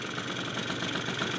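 A freshly built 70cc two-stroke engine runs steadily at idle, a continuous close buzzing drone with a dense, slightly rattling texture and no voices.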